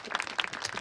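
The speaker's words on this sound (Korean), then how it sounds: "우리 다시 한번 응원과 지지의 힘찬 박수 한번 부탁드리겠습니다" An audience at a Korean river-protection rally gives a burst of applause, dense, steady clapping that fills the short moment from start to finish at moderate loudness.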